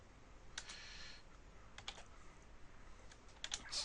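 Typing on a computer keyboard while modeling a bungalow in 3ds Max, with a few scattered, quiet key clicks in small clusters over faint background hiss.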